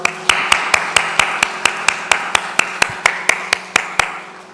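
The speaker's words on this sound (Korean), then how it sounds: "하나님께 영광 박수 올려드리겠습니다" A congregation at a Korean Sunday church service claps together in a steady, even beat, about seventeen sharp claps in a row before trailing off.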